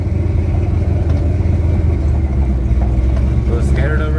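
A cammed, LS-swapped Chevrolet C10 truck rumbles loudly and steadily from inside the cab on its first test drive, with people talking over the engine.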